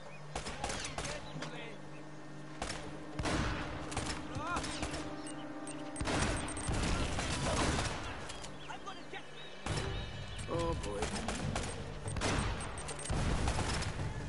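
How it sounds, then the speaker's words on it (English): A mounted turret in the Uncharted video game hammers down a single hallway in repeated heavy bursts, separated by short lulls, with crashes and impacts mixed in. "They have a whole turret in a single hallway and you have to walk down."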